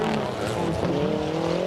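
A powerful Lancia Delta rally car is driven hard through a gravel section at the 1988 Race of Champions, its engine note climbing and straining loudly up close over a rough, continuous roar.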